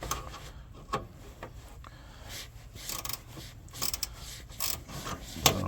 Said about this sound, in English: So, ratchet wrench seems to work just fine.